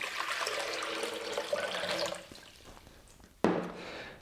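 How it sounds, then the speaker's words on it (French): Water is poured into a blender jar for homemade almond milk, giving a steady soft splashing stream that tapers off, followed by a sharp knock and a brief low rush near the end. "Je mets l'eau dans mon blender."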